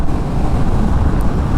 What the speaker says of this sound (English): Now we're on the highway, we're in 4th gear. This is a 1250cc engine, and we're doing about 65 currently.